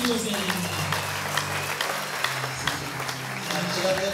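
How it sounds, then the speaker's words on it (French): A crowd applauds loudly at a church gathering in Goma, DRC, with dense, steady clapping throughout and voices shouting under it. "On acclame très fort. Acclamez très fort."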